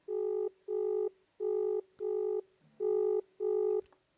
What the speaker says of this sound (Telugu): రింగ్ అవుతుంది ఆల్రెడీ